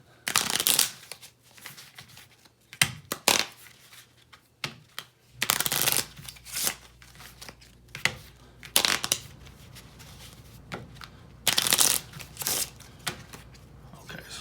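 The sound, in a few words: shuffling playing cards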